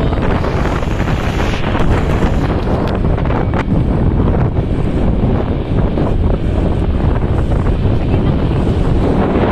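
Strong wind roars and buffets the microphone continuously, a loud, dense rumble with gusty fluctuations throughout.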